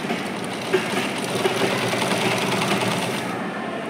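Sewing machine running continuously while stitching a puff sleeve, a loud, even mechanical whir with rapid needle chatter, close up and unbroken before easing off at the very end.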